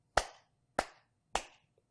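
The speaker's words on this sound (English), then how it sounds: "So let's clap 3 together." Three crisp hand claps, evenly spaced about half a second apart, loud and close with quick decays, in an otherwise quiet room during a simple addition counting lesson.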